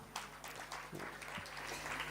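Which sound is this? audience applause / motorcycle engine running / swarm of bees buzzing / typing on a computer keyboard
audience applause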